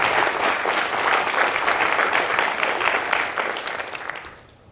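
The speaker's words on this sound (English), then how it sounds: "let's give all of our speakers another round of applause" Applause from the audience at the Think Retail 2025 mainstage, a loud sustained round of clapping that holds steady and then fades out toward the end.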